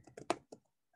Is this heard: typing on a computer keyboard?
yes